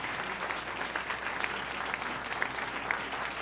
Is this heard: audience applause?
yes